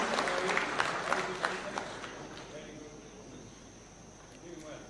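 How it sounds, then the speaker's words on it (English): Audience clapping for award recipients at a Taxpayers Day celebration at State House, Kenya, a moderate patter of applause that peaks early and then fades to a low murmur. "Let's give them a warm clap as they receive these awards kindly."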